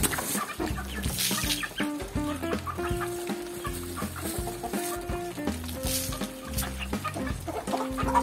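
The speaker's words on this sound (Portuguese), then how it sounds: "Uma galinha, três pitinhas." Several chickens cluck continuously nearby, their short, rhythmic calls overlapping in a busy, lively chorus.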